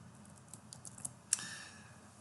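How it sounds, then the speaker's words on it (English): Quiet typing on a computer keyboard, a short run of soft keystrokes followed by a sharper click, close and alone in a quiet room. "let's go type it in."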